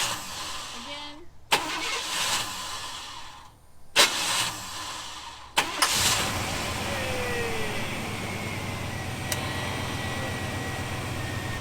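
A truck with a starter problem cranks in three short, sharp bursts that fail to catch, then the engine starts and settles into a steady idle, close by.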